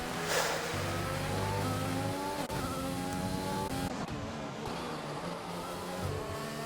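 Racing game car engine with a rev glitch, holding a steady droning tone with stepped pitch jumps and stuttering shifts, continuous and fairly quiet.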